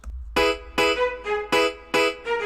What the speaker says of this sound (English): That is a string preset from Flex.